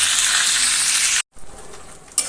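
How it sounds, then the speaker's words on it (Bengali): Chicken pieces for roast fry in hot oil, a loud, dense crackling sizzle close by that stops briefly, then returns slightly softer with a sharp spatter at the end. "রোস্টের মুরগি ভাজার সময় সাবধান, মুরগিগুলো কিন্তু অনেক ছিটে, তেল ছিটে"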